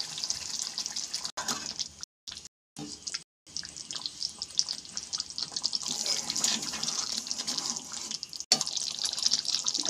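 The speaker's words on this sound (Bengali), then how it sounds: "এখন এই চায়ের লিকারটা আমি দিয়ে দেবো চিকেনের মধ্যে।" Tea liquor trickles and splashes into a pan of chicken curry as a quiet, steady liquid stream with brief breaks, close by and without speech.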